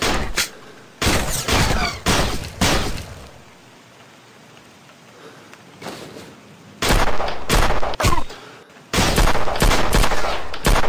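Rapid gunfire rattles in bursts during a shooting video game, with loud volleys separated by quieter stretches of background ambience and a few isolated shots.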